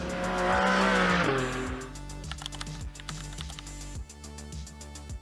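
A 2021 Porsche GTS 4.0 with a manual gearbox is driven hard on twisty mountain roads; a loud rising engine note gives way to repeated short shifts and steady revving, with a tire squeal near the start.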